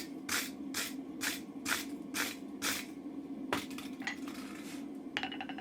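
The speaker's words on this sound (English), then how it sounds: "So we're going to give it a little scrub with a wire brush." A wire brush scrubs a hot forged steel chisel up close, making about six quick rasping strokes in a steady rhythm, followed by a few looser scrapes.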